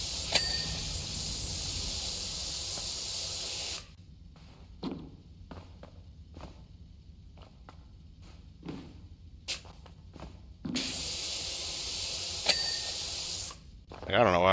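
Pressure washer spraying soap in PowerWash Simulator 2, a loud steady broadband hiss lasting several seconds, stopping, then returning for a few more seconds, with quieter thumps and clicks in the gap.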